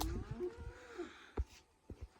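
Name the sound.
cattle mooing at livestock sale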